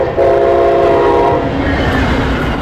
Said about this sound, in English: people living near the tracks say the horns, like the one you just heard, blare at all hours of the night